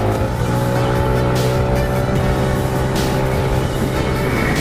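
A Yamaha NMAX scooter with a throaty RS8 aftermarket exhaust drones continuously at close range, steady and fairly loud throughout.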